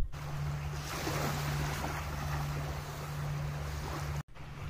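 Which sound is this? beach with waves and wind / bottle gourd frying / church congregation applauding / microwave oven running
beach with waves and wind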